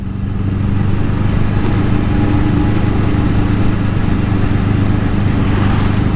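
A Honda CB750 cafe racer motorcycle coming downhill off an escarpment, its engine a loud, steady low rumble throughout with a constant droning hum and no voices.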